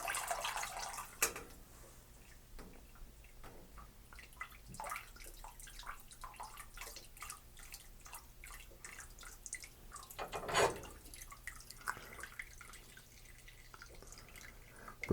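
Liquid draining and dripping from a bag of spent grain during a one-gallon pilsner brew, heard as quiet, irregular drips and trickles close by, with a louder splash of pouring water at the start and another around the middle.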